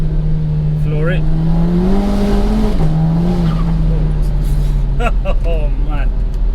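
A 417 bhp VW Golf GTI Edition 30 pulls hard at full throttle, its engine droning loud and steady with a rising pitch as it accelerates, heard from inside the car, with a voice speaking briefly over it.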